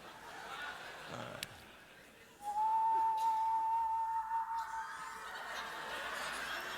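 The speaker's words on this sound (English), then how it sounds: "I will whistle a note, and you whistle the same one." A comedy show audience whistles one sustained note together for a couple of seconds, loud and steady against a backdrop of chuckles and chatter that continue after the tone fades.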